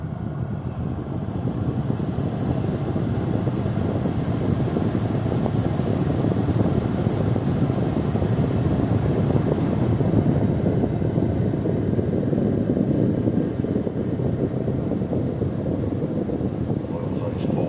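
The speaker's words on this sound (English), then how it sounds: "If you could hear the air compressor kick on." Inside a 1983 Buick Park Avenue with 16k miles, the air conditioning compressor kicks on, adding a steady broadband whir and rumble that runs loud and continuous under the idling engine for the whole stretch.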